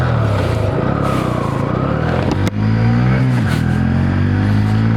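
A Honda CB 125 Hornet motorcycle exhaust revs up and down close by, a deep throaty drone rising and falling with a brief sharp crack midway.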